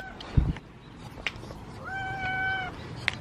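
A single drawn-out cat meow, fairly close, with a few small knocks and rustles around it.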